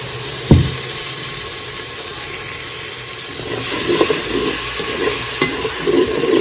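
Green chilli and garlic paste frying in a pan, a steady low sizzle with scattered stirring scrapes and clinks that grow busier toward the end, close and moderately loud with no talking.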